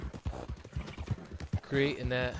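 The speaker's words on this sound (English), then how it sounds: "I love riding horses" Horse hooves clip-clopping during riding in a video game, a quick rhythmic trot under steady talk by a man, with a brief synthetic whinny-like tone near the end.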